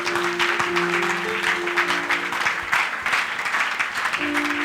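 Church congregation clapping loudly and continuously in acclamation of Jesus, a dense close crowd applause with faint voices and sustained musical tones underneath.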